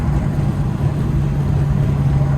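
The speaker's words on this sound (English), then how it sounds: "I want you guys to like really hear how the car sounds." Steady low drone of a DocRace single-turbo car engine and exhaust at cruise, heard from inside the cabin as a constant hum with a strong low tone and no talking.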